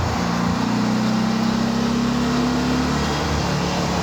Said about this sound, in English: Downshifted into third.